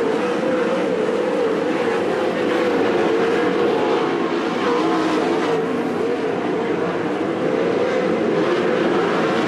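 410 sprint cars race at Attica Raceway Park, a dense, loud, continuous roar of multiple engines at speed that swells slightly as the pack passes, with no clear talking.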